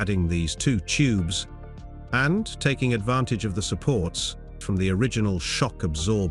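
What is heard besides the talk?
No everyday noise stands out behind the speech.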